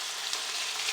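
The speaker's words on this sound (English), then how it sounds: "let that continue frying" Meat and chopped onion fry in a pan, producing a steady, close, bright sizzling hiss with no breaks.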